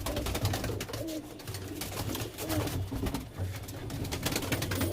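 Pigeons of fancy loft breeds coo and call in a soft, repeating rhythm close by, with flutters and flapping wings over a busy background hum.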